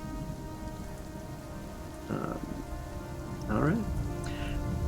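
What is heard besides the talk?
rain pouring off a roof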